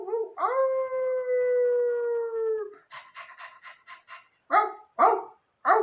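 A person's voice imitates a howling wolf or dog with one long, steady, wavering howl, followed by a quick run of short barks and then three louder yelps, all close and clear.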